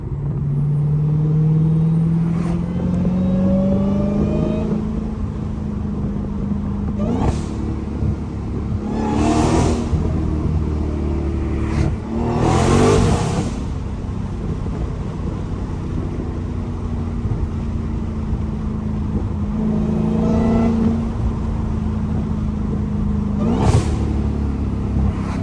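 Dodge Challenger SRT Hellcat V8 revving and accelerating while driving through a city, loud deep engine rumble with repeated rising pulls and gear changes, reflecting off nearby trees.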